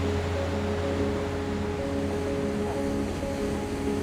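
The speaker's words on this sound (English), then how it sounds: "I'm getting the sound of the ocean from a closer perspective, but with this slapback from the cliffs behind me" Ocean waves at El Matador beach, backed by cliffs, roar as a constant, loud broadband wash with a steady low rumble and some faint tonal hum, with no talking.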